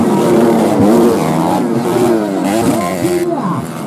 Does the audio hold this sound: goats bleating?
no